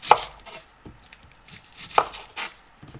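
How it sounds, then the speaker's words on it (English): A knife chopping onions on a board, a few sharp, close knocks spaced unevenly over a quiet background, no talking. "Let's cut the onions right now."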